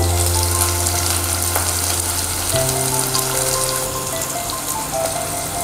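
Curry leaves sizzling in hot oil in an Andhra-style chayote (chow-chow) curry, following cumin seeds and onions. A steady, loud frying hiss runs throughout with a constant low hum behind it and no talking.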